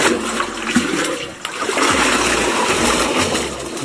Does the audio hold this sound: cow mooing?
no